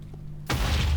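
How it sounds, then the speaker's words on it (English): Explosion in the Minecraft video game, a sudden loud broadband blast cutting in after a quiet moment and sustaining as a rumbling roar to the end. "That was an explosion. Why did something just explode?"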